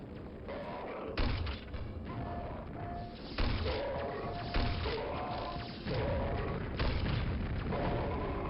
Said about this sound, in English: Get some bombs lobbed up at you.